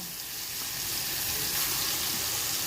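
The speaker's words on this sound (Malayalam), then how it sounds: "കൂട്ടുകാരെ നമുക്ക് മീൻ വറുക്കാനുണ്ട് വേണ്ടി നമ്മളെ എണ്ണയൊക്കെ റെഡി ആയിട്ടുണ്ട് നമ്മൾ മീൻ വറുക്കാൻ പോവാണ്" Moda fish sizzles and crackles steadily in hot oil in a home kitchen, a close, continuous frying hiss with no one talking.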